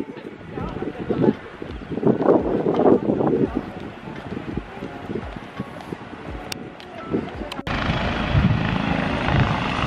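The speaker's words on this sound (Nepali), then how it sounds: "Training helicopter." A training helicopter flies near an RAF site in the UK, its rotor and engine a steady broadband drone under intermittent talk, with wind buffeting the microphone and a louder, fuller roar in the last two seconds.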